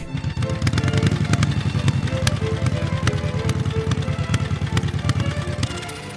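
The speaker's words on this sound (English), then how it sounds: "thick rumble at idle and low RPMs, which if you ride Harley is all the time" Harley-Davidson and Ducati motorcycle engines idle with a thick, loud, steady low rumble of rapid pulsing firing beats, close by and continuous, with no talking over it.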